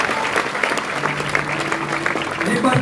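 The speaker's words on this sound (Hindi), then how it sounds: "तालियों के साथ एक जोरदार स्वागत करिए।" Audience applause welcoming a speaker at a church convention in Navapur, with dense continuous clapping throughout and a voice faintly over it.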